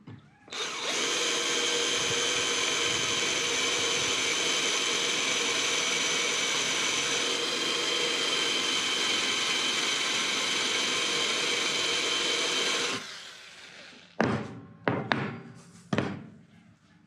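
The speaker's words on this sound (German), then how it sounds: "schon Akkuschrauber jetzt zur Bohrmaschine, damit geht es dann doch ein bisschen besser." A cordless screwdriver drills steadily into metal, a loud, sustained whine held for about twelve seconds before cutting off, followed by a few short bursts of the tool.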